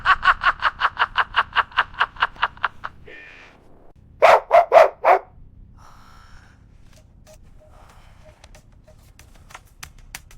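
A cartoon dog yaps in a fast run of about a dozen evenly spaced barks, then after a short gap gives a few louder, sharper barks, followed by quieter scattered cartoon effects with no speech.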